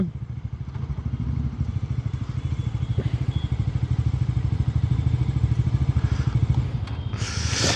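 A motorcycle goes by close and fairly loud, its engine a steady throbbing pulse that swells slightly toward the end before a short rustling burst.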